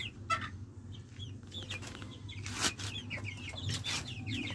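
Chickens being fed grower feed, clucking and giving short calls repeatedly at close range over a steady low background hum.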